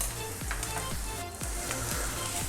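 Onions sizzle and fry steadily in a hot pan for an omelette dish, a continuous loud crackle with periodic scraping stirs, no voices.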